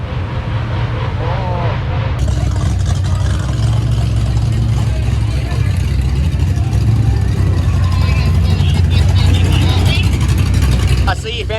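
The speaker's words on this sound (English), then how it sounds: "So a little bit of drifting to kind of end the day." A drifting car at the Summernats car show, its loud engine roaring steadily and continuously up close, with broad tyre and exhaust noise filling the whole span and people talking underneath.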